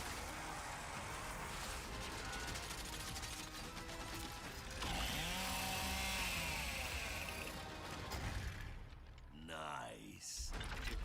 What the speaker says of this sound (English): The creation of the Chainsaw Lancer is another origin story from lore that we wanted to show in E-Day.